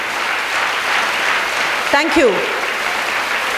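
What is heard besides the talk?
audience applauding in a school hall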